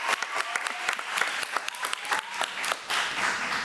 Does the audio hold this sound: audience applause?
yes